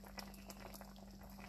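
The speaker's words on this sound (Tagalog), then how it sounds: "Kumukulo." Fish curry with potatoes and bell pepper in a creamy coconut milk sauce bubbling at a steady boil, close up, with a constant low hum underneath and soft popping bursts.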